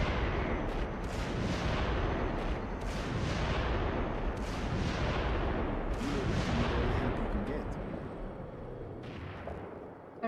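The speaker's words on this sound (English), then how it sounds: "Yeah, just mortar it." Mortar and artillery fire from the PS3 first-person shooter Haze, a series of heavy booming blasts and rumbling impacts at irregular intervals, loud and dense, with a voice speaking briefly among them.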